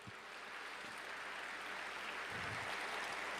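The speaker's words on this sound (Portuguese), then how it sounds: "você pode aplaudir o nome dele." A church congregation applauds in a faint, continuous patter of clapping that runs the whole few seconds without a break, with no speech on top.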